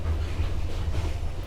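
Passenger train rolling along the rails from Hanoi to Hue in Vietnam, a steady loud low rumble with constant rattling from inside the carriage, no voices.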